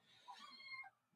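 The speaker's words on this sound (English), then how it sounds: "that's, by the way, that's my cat." A young kitten gives a single short, high meow indoors, quiet and close, lasting under a second.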